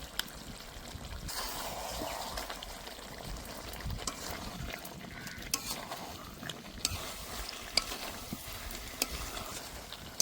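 Chicken pieces fry in their own rendered fat without added oil, stirred and scraped around the pot with a low sizzle and irregular clinks and scrapes, moderately close.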